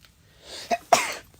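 A short wheezy intake followed by two sharp bursts, the second louder, like a sneeze close by, fading out afterward.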